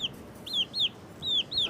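Urban backyard chickens in the Sherman Hill neighborhood of Des Moines give four or five short, high, downward-sliding clucks in quick succession, fairly close against a quiet background.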